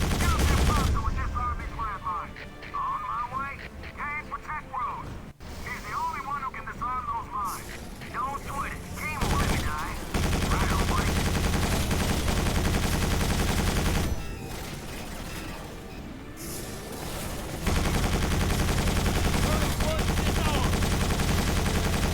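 Sustained turret gunfire in Quake 4 roars in long continuous bursts with brief gaps, loud and close, layered with game effects and a voice talking over parts of it.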